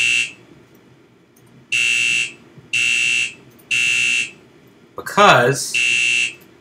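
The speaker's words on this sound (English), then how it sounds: "Let's see what happens when I pull this alarm and reset it." A conventional fire alarm system, triggered from a pull station, blares in loud repeating horn blasts, about one second on and a short pause between, with a voice cutting in briefly near the end.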